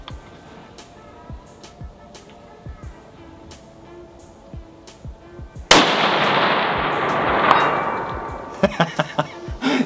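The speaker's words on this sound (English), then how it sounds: "pulling the trigger, waiting, and then hearing the ping." Browning X-Bolt HS3 rifle fires a single loud, sharp shot at a long-distance range, followed by a long decaying rumble, then a few faint clicks of the bolt, with a steel target about 450 yards away pinging faintly.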